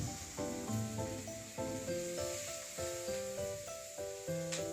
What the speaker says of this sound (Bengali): এইবার আমি গ্রেট করে রাখা আদা এবং সব মশলাগুলো একসাথে তেলের মধ্যে দিয়ে দিচ্ছি, সাথে রয়েছে কাঁচা লঙ্কা।